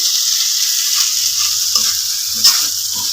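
Shredded pindang fish and tomato with spice paste stir-fry in a hot wok, a steady close sizzle with light scraping stirs and a brief louder spatter midway.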